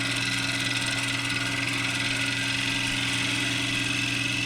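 A wood lathe spins a blank being rounded to a cylinder, a steady droning hum with constant motor whine and cutting noise, unbroken and close, with no voices.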